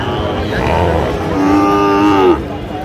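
Sahiwal cattle low loudly and close by at a livestock market, one long drawn-out moo rising over a busy background of other animals and crowd murmur.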